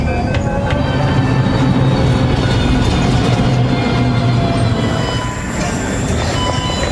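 A Delhi Metro train rolls along its rails with a steady heavy rumble, the wheels squealing at a high pitch throughout. The noise is loud and continuous, and a voice talks over it.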